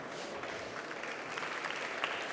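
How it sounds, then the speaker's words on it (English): Steady applause from a conference audience welcoming a speaker to the stage, a dense continuous wash of clapping that holds at an even level throughout. "Let's give him an applause"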